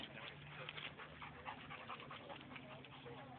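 A dog pants steadily and close at a dog park, quick rhythmic breaths against a noisy, muffled outdoor background with no clear talking.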